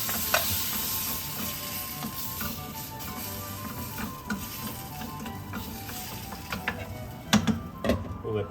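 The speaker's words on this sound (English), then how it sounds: "We'll let that simmer down for a while" Tomato paste sauce seasoned with black pepper and a little sugar simmers in a pan, giving a steady close sizzle and soft bubbling with occasional light clicks and stirring scrapes, no voices.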